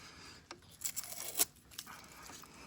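Protective film being peeled off a new Magician Atlas e-bike during assembly, a few short tearing, crinkling rips close up, the sharpest near the middle, with faint background noise.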